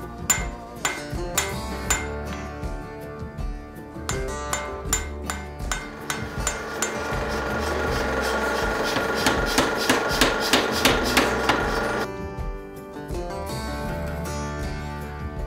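A hammer forges the eye of a carving axe, ringing in sharp metallic strikes. Separate blows come first, then a fast run of rapid hits over a constant machine hum, then a few slower blows near the end.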